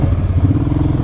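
A Kawasaki Brute Force 750 ATV labors with its tire spinning in Idaho clay, making a loud, close, rough engine drone with rhythmic clattering pulses.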